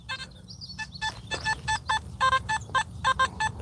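A metal detector gives a mixed-signal response while scanning along a road during a coin hunt: a rapid series of short, choppy electronic beeps in an irregular stuttering rhythm, fairly close and moderately loud over faint low background rumble.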